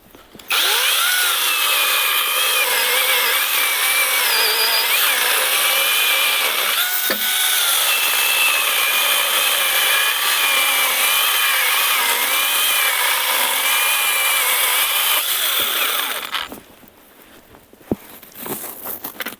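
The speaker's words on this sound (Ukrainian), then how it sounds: "пробуємо грьосером пилять сосну отаку" Grosser GCS 120HS cordless chainsaw cuts through pine, a loud, close, steady whining buzz held for about sixteen seconds before dropping away to quieter handling noises.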